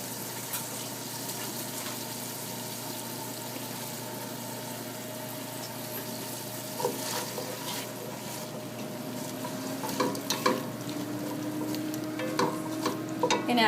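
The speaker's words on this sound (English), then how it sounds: "And then we're just going to saute the onions until they're translucent." Onions sauté in olive oil in a pan for oxtail, giving a steady close sizzle with occasional stirring scrapes that grow a little busier toward the end.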